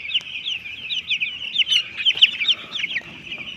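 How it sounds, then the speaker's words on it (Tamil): Chickens cluck close by in a rapid, continuous run of short, sharp calls with small pauses, loud against quiet surroundings and no talking. "இது பாருங்கள் இந்த கோழி"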